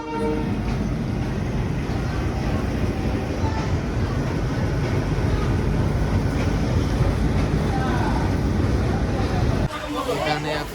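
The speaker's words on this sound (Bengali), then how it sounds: "ট্রেন আপনার এখনই 5 নম্বর প্ল্যাটফর্মে ঢুকলো।" Sundarban Express train pulling into a station platform, a loud continuous rumble of wheels and carriages rolling past up close, with a brief shift in noise near the end.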